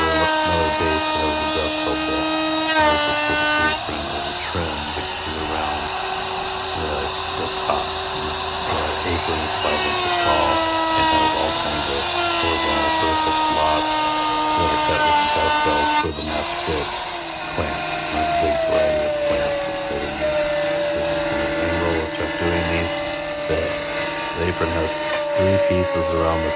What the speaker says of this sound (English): he's doing the 1/4 inch straight bit first, and he's chasing it with the dovetail bit.